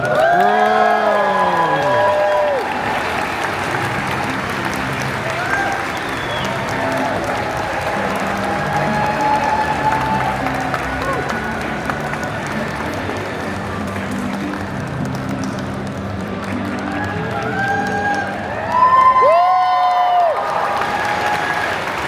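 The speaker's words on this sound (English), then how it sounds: "let's give a big round of applause for our first contestant" A large crowd at a Pokémon cosplay show during the Pokémon Europe International Championships in London applauds and cheers steadily, with a dense wash of clapping, whistles and shouts that swells again near the end.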